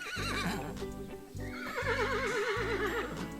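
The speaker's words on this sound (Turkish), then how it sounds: "O sırada dışarıdan at kişnemeleri duyulmuş." Horses neigh loudly, several whinnies overlapping in quick succession with wavering, quavering pitch over a low rumbling background.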